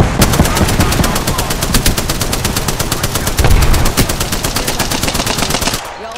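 Automatic gunfire in the video game Apex Legends, a loud unbroken burst of rapid shots lasting several seconds before cutting off abruptly near the end.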